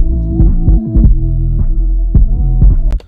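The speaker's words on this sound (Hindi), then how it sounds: "सिर्फ बेस सुनाई दे रही है पर सिर्फ बेस के साथ डिस्टॉर्शन भी सुनाई दे रही होगी" Bass-only music left after an EQ high cut, loud and muffled with distortion. Deep thudding low notes throb in a steady rhythm and nothing bright remains above them.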